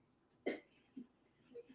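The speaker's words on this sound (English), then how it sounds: "Tell me who's coughing." A woman coughs somewhere off to the side, one sharp cough followed by two softer throat-clearing bursts, faint and spaced out over near silence.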